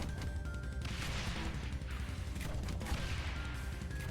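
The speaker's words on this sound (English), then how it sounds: "And with the mortars going," Dense, continuous clatter of mortar fire and impacts in the video game Stone to Space, a steady barrage of overlapping booms and crashes with no pauses, moderately loud throughout.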